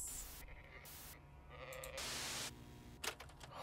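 Sheep bleating in the video game Amanda the Adventurer, several loud, wavering bleats in a row with short gaps between them, heard alone without talk.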